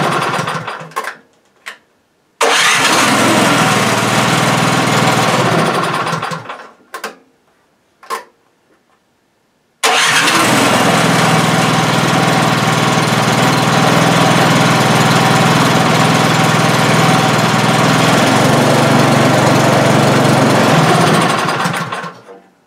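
A snow blower's small engine runs loud and close with the choke off, sputtering in short bursts and cutting out between attempts before settling into a long, steady roaring idle.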